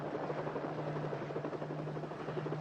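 A helicopter flies overhead in a 1990 film scene, its steady rotor thump and engine drone loud and continuous throughout, with no voices.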